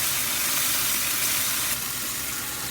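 Mushrooms searing in a hot pan with a splash of hoisin sauce, giving a steady, close broadband sizzle and hiss that holds evenly throughout with no talking.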